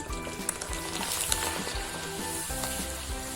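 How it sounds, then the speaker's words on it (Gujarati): Rice flour sev fries in hot oil, giving a steady, close sizzling hiss with faint bubbling and a few light clinks, heard alone without talk. "હવે આપણે મમરી તળી લેશું."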